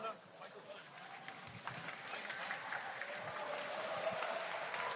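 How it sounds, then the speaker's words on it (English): Distant, thin applause from the crowd at a Rubik's Cube World Championship final in South Korea, a faint patter of clapping that builds slightly, with some talk mixed underneath. "Big round of applause."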